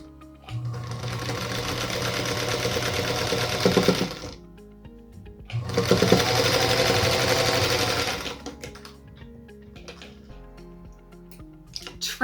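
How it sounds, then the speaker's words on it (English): Sewing machine stitching together quilt block pieces for a Union Star block, two steady runs of close, continuous mechanical whirring separated by a pause, followed by quieter handling clicks. "Now let's sew the other one to the opposite side."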